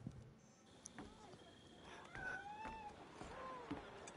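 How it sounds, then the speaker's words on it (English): A cat meows a few times amid ambient game sounds in the Skull and Bones video game, the calls fairly clear but not loud, with some background activity around them. "I love her cat."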